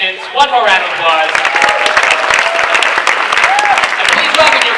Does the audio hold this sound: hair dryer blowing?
no